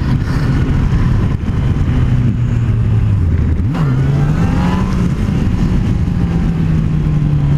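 A Yamaha FJR motorcycle engine, traction control switched off, revs loudly as the bike wheelies. The steady drone swoops up in pitch at one point, then holds a high, sustained note over wind roar.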